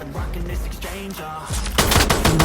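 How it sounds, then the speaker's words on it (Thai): A plasma gun fires in a video game, a rapid burst of repeated electronic shots that grows louder and denser toward the end, continuous and close without speech. "พาสมานี่ก็ดีอย่างหนึ่งไม่เปลืองไม่ไม่มีกระสุน แต่ข้อเสียก็มีครับ พอยิงไปแล้วแล้วมัน มันหมดแล้วต้องใช้เวลาในการชาร์จครับ"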